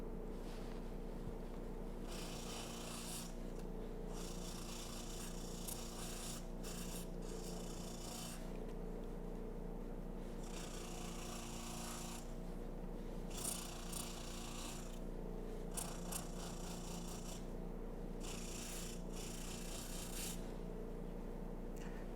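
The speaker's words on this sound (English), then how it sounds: "it's taking all the meat and grease and fat right off the skin" Fleshing wheel stripping meat, fat and grease from a pheasant skin during taxidermy: a continuous motor whir with rhythmic rasping, scraping bursts as the skin is pressed against the spinning wheel, fairly close.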